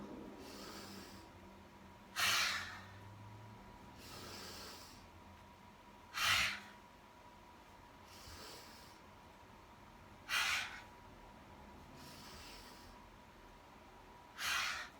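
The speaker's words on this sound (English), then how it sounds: "Inhaling through the nose, exhaling through the mouth as you come down." Slow, rhythmic breathing during a yoga-style practice: quiet intervals punctuated by four strong, airy exhales or sniffs spaced about four seconds apart, close and alone with no talking.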